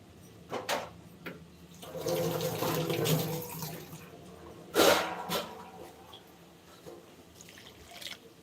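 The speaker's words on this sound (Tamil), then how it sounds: "நல்ல தண்ணி தான் போட்டு ஊற வைக்கணும்" Water poured over rice in a bowl to soak it, a close splashing and gurgling pour with a few drips and short bursts, no talk.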